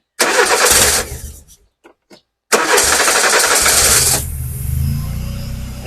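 A Peugeot 205 project car engine cranks briefly, falls quiet for a moment, then catches with a loud rumble and settles into a lower, steady idle.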